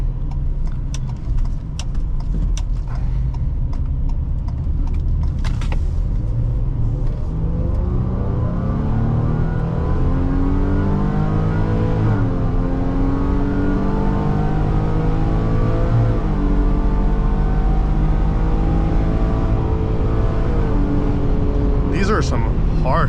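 Ford Police Interceptor Utility Hybrid 3.3L SUV accelerating through harsh gear shifts, a loud continuous engine drone rising in pitch and dropping at each shift, with a rough underlying rumble from inside the cabin.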